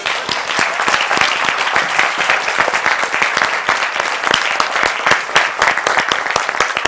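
Congregation in a church clapping their hands together in sustained, dense applause, loud and close, steady throughout with no pauses.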